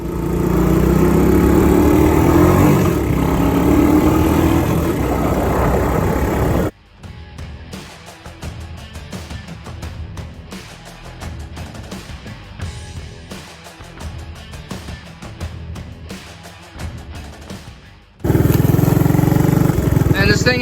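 A 1984 Honda ATC 200S three-wheeler engine runs steadily loud for several seconds, cuts to a quieter clattering idle-like stretch with scattered mechanical ticks, then the loud running engine returns.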